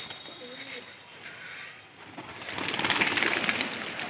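Pet pigeons at a rooftop loft coo softly in the background while someone talks, then a rising mechanical drone swells up and grows louder toward the end.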